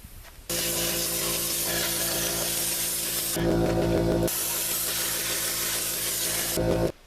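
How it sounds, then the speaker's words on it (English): A flexible wand sprayer hisses steadily while spraying undercoating up under a bus frame, a loud close continuous spray with one brief change in tone midway, then cutting off abruptly. "Right now I got this flexible wand sprayer I can use to try to get up underneath the frame, between the frame and the floor."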